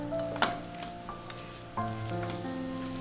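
Crispy fried chicken tossed in sauce in a pan for an Indo-Chinese dish, giving a low sizzle with a few scraping stirs and clinks, plus sustained ringing tones that are probably background music, nearby and moderate in level.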